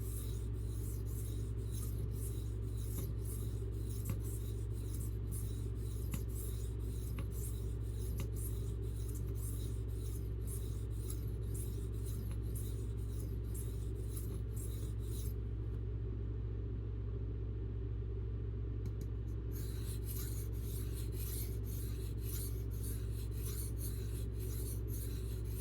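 Steady abrasive rasping as an Old Forge D2 knife blade is drawn across a sharpening stone, continuous and close over a constant low hum, with no talk.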